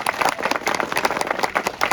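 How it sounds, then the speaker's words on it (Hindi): Crowd clapping in welcome at a protest sit-in at Jantar Mantar, a dense, steady patter of many hands close by with no voices over it. "तालियों से उनका स्वागत करिए।"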